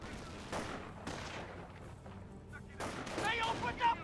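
Gunfire in the WWII strategy game Company of Heroes, with a scattered series of rifle and machine-gun shots at moderate distance over a muffled battle din, fairly faint.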